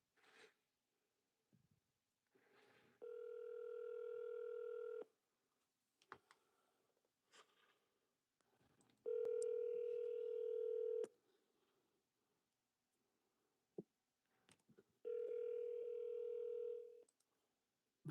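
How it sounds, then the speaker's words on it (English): Phone call placed through an Alexa smart speaker: three long steady ringback tones spaced evenly apart, with small clicks between them, fairly quiet and without talk. "Alexa, call Sweetie Petey. Calling Sweetie PD's mobile"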